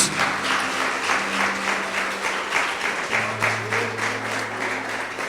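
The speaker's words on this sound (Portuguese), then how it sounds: "Dê uma forte salva de palmas para Jesus." A church congregation at a celebration service gives a strong round of applause, sustained dense clapping at moderate level with a low steady hum underneath.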